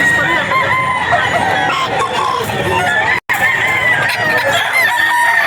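A white streamer hennie rooster crows and clucks loudly and close by, with its calls running continuously through a short stretch and cut by one brief dropout.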